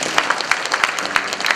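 An audience at a Kyrgyz poetry event claps for poets who read landscape lyrics, a brief burst of dense, close applause with a steady patter of hands and no voices.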